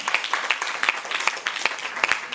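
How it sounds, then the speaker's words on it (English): Audience members clap for two women at a small staged event, a moderate patter of applause with individual claps standing out, steady throughout. "Let's give these ladies a round of applause."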